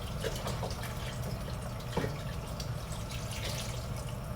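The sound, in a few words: pouring chicken broth into pasta fagioli soup pot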